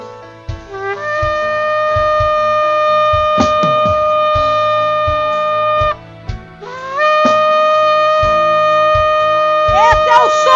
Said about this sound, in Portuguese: Esse é o som do chofar.